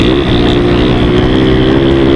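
A small motorcycle on a dirt outing revs hard and steadily, its loud buzzing engine note close and constant with no talk over it.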